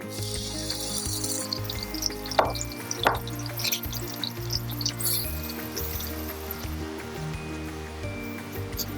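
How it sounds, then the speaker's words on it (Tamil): Ginger, garlic and onion paste sizzles steadily in hot oil while an Afghani creamy chicken gravy is cooked, a busy close frying hiss that continues throughout with faint steady tones underneath. "இப்போ நம்ம இதில் வந்து இந்த இஞ்சி, பூண்டு, வெங்காயம் பேஸ்ட்டை வந்து நம்ம இதில் சேர்த்துக்குருவோம்."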